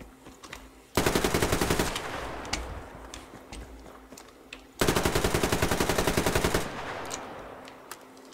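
Two long bursts of rapid automatic gunfire in the Survarium shooter game, close and loud, with a quieter pause of single reports and movement noise between them.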